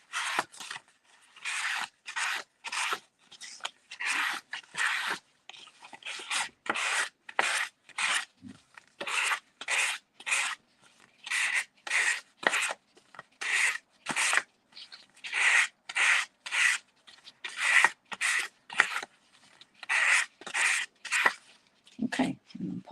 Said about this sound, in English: I'm going to get my block, and I'm just going to do a little bit of sanding